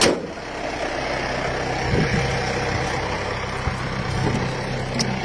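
An old pickup truck idles steadily nearby, a constant low rumble that holds even with no talking.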